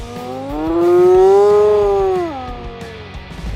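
A wild animal lets out one long, loud, close howl that rises, holds steady for over a second, then drops and trails off, with faint rustling afterward.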